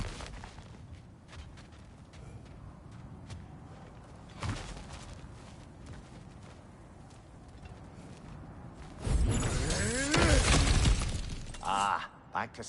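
Smashing through things in God of War Ragnarok: a steady rustle of movement and footsteps with a brief crack midway, then a loud burst of shattering debris and crashing near the end.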